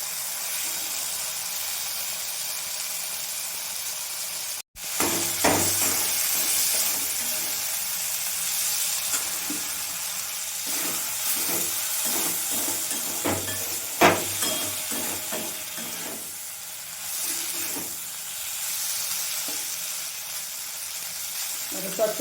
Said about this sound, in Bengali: এইভাবে নাড়াচাড়া করি রান্নাটা করছি